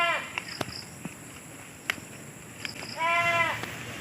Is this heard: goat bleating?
yes